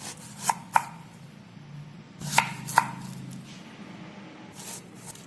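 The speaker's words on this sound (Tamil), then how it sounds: "இந்த மாதிரி சின்ன சின்ன பீஸாக கட் பண்ணி எடுத்துக்கோங்க." A knife chops peeled raw plantain into small pieces on a board: two pairs of sharp, close thuds, each a quick double strike, with quiet gaps between them.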